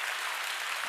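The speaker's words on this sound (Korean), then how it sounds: "박수 한번 해야 되는 거 아닙니까?" Church congregation claps during a Korean sermon, a soft, even wash of many hands heard from a distance at low volume.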